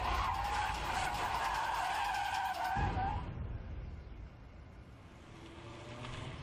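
Car skidding out of control as the driver fumbles and hits both brake and gas, a loud sustained tire screech that cuts off abruptly and leaves a fading engine rumble.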